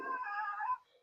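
A cat gives a single drawn-out meow, clear and fairly close, fading off after under a second in an otherwise quiet space.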